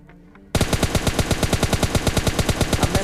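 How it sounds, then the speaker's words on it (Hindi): Sustained rapid automatic gunfire in the PUBG Mobile Lite video game, erupting suddenly after a quiet half-second and continuing as a loud, steady burst of evenly spaced shots. "तभी मेरे को पीछे से फायरिंग आने लगती है"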